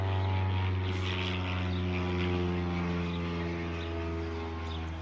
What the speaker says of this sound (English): but I think it was an airplane